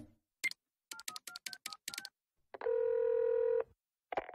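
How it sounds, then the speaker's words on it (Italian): Touch-tone telephone number dialed in a Family Guy cartoon scene, a quick run of short beeping tones followed by a long steady ring tone and a brief final chirp. "è ora di fare l'annuale telefonata tortura alla prozia Helen"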